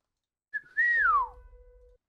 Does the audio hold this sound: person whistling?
yes